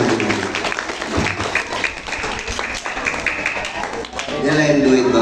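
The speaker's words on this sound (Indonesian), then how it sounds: "100 tepuk tangannya" An audience at an Isra Mi'raj commemoration and haul gathering claps, moderately loud and uneven, mixed with talk and crowd voices throughout.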